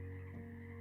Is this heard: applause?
no